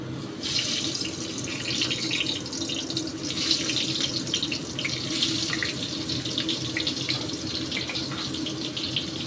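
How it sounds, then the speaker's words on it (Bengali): Brinjal pieces fry in hot oil in a kitchen, giving a close, continuous watery sizzle with crackling bursts that stays strong throughout, with no talking. "তেল গরম হয়ে গেছে, এবার আমি বেগুন ছেড়ে দিচ্ছি।"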